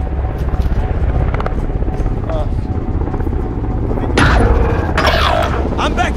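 A helicopter's rotor thumps steadily beneath continuous Call of Duty: Modern Warfare Warzone game sounds and chatter, with a couple of sharp bursts near the end.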